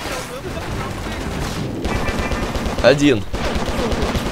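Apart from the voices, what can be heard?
gunshots in a video game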